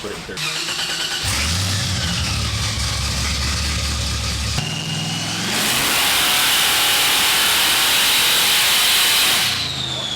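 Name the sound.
supercharged LSX C10 truck engine revving on a dyno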